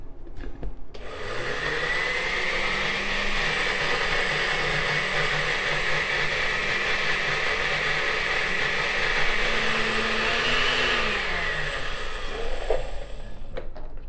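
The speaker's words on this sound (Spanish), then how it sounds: "Debemos licuarlo muy bien para que quede con esta textura cremosa." A blender runs steadily, whirring as it purées a creamy sauce with milk for rustic potatoes; the motor pitch rises and dips briefly before the steady whir returns, loud and continuous without talk.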